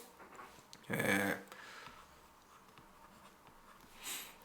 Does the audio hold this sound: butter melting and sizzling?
no